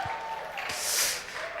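An audience at a lecture hall claps to welcome a guest speaker, a short burst of applause that swells briefly and fades, with faint voices underneath.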